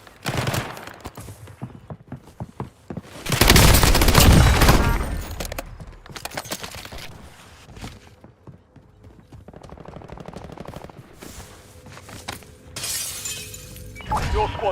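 Gunfire from a battle-royale shooter video game comes in rapid, crackling bursts with shattering impacts, loudest in a sustained barrage early on, with game voice lines and player talk over it.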